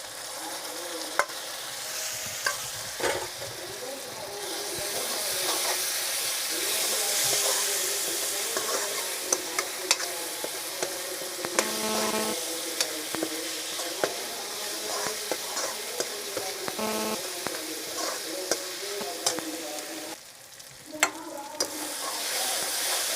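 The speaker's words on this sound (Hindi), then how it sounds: "टमाटर प्याज और लहसुन अच्छा से फ्राई होने देना" Tomato, onion and garlic frying in a pan for a fish curry give a steady close sizzle, broken by scraping stirs and a few sharp utensil clicks.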